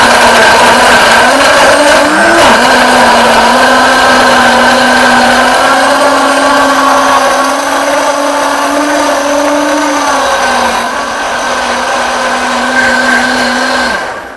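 A Tribest Dynapro DPS-1050A vacuum blender runs loud and steady at close range, a constant motor whine that drops slightly in pitch partway through and carries on alone without talk.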